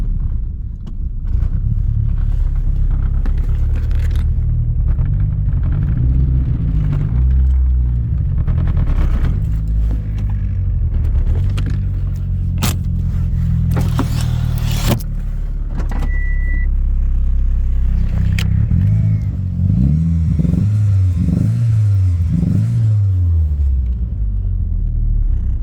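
A car engine with a misfire runs with an uneven, lumpy rumble that stumbles and surges, then sputters and dies out near the end, loud and close, with no talking.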